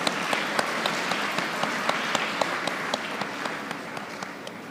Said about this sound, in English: Let us give them a huge round of applause.